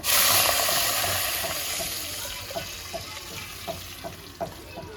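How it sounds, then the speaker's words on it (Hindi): Water poured all at once into a pan of browning onions, giving a loud initial hiss and sizzle that settles into steady bubbling with a few soft stirring clinks. "चावल वाला पानी डाल दिया सारा।"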